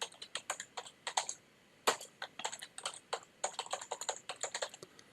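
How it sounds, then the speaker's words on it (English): Fingers tap out a name on a computer keyboard, quick clusters of crisp, close key clicks with a brief pause before a final burst of keystrokes. "so I typed in my name"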